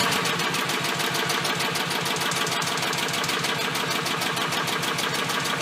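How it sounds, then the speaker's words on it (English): An Onan 3.0AJ generator engine cranks over continuously, a loud, rapid, rhythmic chugging that holds steady without catching. "It's going to crank over for quite a bit, I can imagine."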